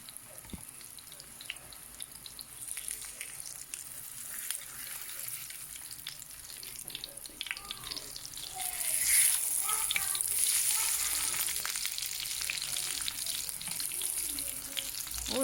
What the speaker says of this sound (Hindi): और जहाँ पे ये खुशकिस्मत कबाब तले जा रहे हैं